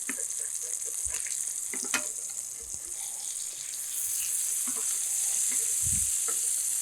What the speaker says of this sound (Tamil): இப்போது நீங்கள் பார்த்தீங்கன்னா இங்கே மீன் வந்து நல்லா வந்து குக் ஆகிட்டுருக்கு